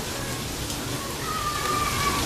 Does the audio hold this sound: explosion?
no